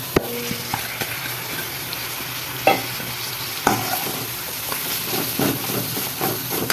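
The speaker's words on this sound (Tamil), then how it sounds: "கருவாடை நல்லா எண்ணெயிலே ஓரளவுக்கு நல்லா வதக்கிட்டேன்" Dried anchovy sautés in oil with onion and tomato, a continuous close sizzle broken by repeated spatula scrapes and knocks against the pan, with no voices.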